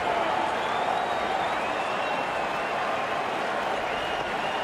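Crowd at a Caribbean Premier League T20 cricket match in 2018, Jamaica Tallawahs against Guyana Amazon Warriors, keeps up a steady, dense roar of cheering and clapping throughout, with faint whistles riding over the noise.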